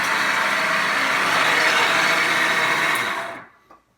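A kitchen food processor motor whirs steadily at close range with a loud, constant drone, then spins down and stops near the end.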